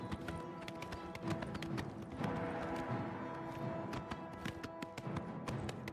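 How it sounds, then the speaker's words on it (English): Horses' hooves clip-clop in the video game Oblivion Remastered as two guards ride by, a sharp irregular clatter of close hoofbeats over a soft ambient background. "Oh, 2 guards on horseback?"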